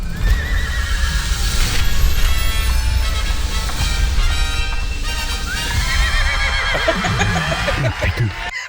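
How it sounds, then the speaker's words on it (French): A horse neighs loudly and whinnies close by, with clip-clopping hooves and a steady rumble of background noise around it. "Pouvons-nous accueillir le cheval pour l'activité manuelle, s'il vous plaît?"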